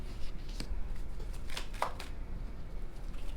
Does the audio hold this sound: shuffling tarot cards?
yes